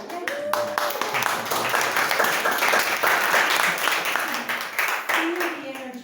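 Applause from about nineteen members at a Toastmasters club meeting, steady hand clapping filling the room for several seconds, with voices mixed in over it.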